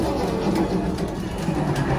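A steady mechanical rumble of a moving train on a Disneyland ride, dense and continuous with faint rhythmic clatter, heard throughout without talking.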